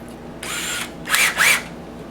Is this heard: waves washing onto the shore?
no